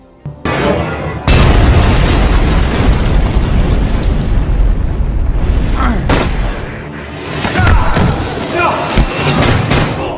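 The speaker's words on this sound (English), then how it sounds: "so that the car exploded and killed Detective Gibson in it" A sudden loud blast erupts as a car explodes in a film, followed by a heavy, sustained roaring rumble and scattered debris crashes.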